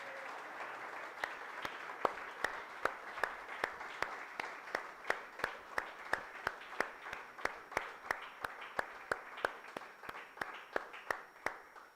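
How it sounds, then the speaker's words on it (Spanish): A church congregation at a morning worship service in El Salvador claps in a steady, even rhythm of about two beats per second, sharp distinct claps over a low, continuous background hum. "¿Cuántos le dan su mejor aplauso al Señor en esta mañana?"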